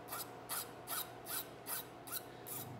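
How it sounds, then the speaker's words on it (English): A hand file works the end of a metal pin on a colonial rifle kit, rounding it off in seven even rasping strokes with short pauses between them, close and alone. "And then file. Flatten it off and then round it off good."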